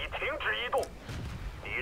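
A tank cannon shot lands in a tank battle video game, a single short muffled boom amid brief radio-like chatter and game sounds.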